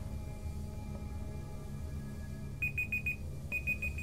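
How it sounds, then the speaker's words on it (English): An alarm clock goes off in two quick bursts of four bright, repeating beeps, clear and fairly close over a steady low hum of background sound. "There's my alarm."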